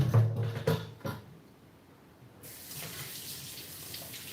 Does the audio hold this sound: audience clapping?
no